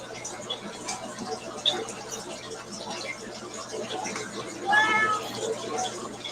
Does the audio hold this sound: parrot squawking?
no